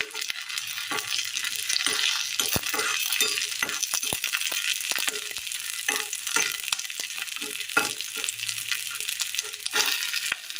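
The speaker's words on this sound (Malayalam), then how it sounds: "ആ ഉള്ളിയും വറ്റൽമുളകും ഒന്ന് മൂത്ത് കിട്ടിയിട്ടുണ്ട്" Onion and dried red chillies frying in hot oil for a Kerala dish, a steady loud sizzle with frequent sharp clicks and scrapes of a spoon stirring against the pan throughout.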